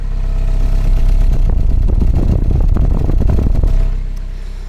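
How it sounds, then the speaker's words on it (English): A Mazda MX-5 engine with a misfire idles loudly and steadily close by, its low exhaust rumble pulsing evenly before easing off slightly at the end. "Let you have a listen to the exhaust here."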